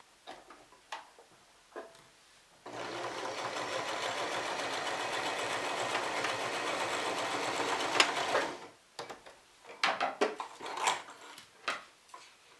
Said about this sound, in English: I'll bring over my sewing machine. Again, I'm using that 3-step zigzag.